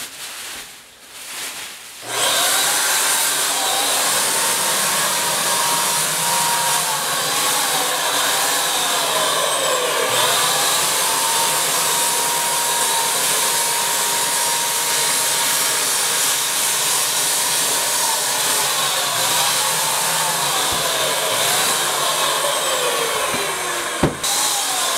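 A Wagner Flexio 590 paint sprayer runs continuously with a loud, steady hiss and motor whine while spraying paint onto inside window trim, starting after a short pause and stopping briefly near the end.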